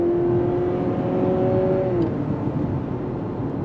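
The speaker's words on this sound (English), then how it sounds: "let's do another on throttle acceleration in this CR-V" A 2023 Honda CR-V engine hums steadily under acceleration, with a smooth rising whine that drops once at a simulated shift, heard from inside the cabin.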